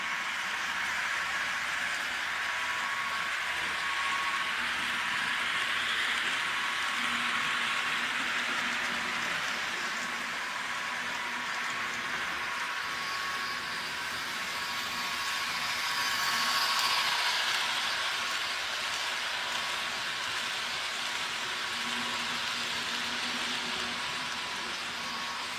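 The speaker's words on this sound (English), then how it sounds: "I've got an adaptive car in its place, being pulled by a Bachmann F7 DCC sound locomotive" A Bachmann F7 DCC sound-equipped model locomotive pulls cars around a layout track, a steady, even rumble and hiss of running gear with constant wheel noise and a faint motor whine throughout.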